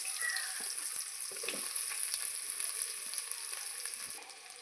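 Onions frying in a pan for ghee rice: a steady, close sizzle and crackle of oil with a few soft stirring sounds, no voices.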